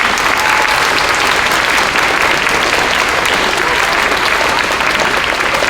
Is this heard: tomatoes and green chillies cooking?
no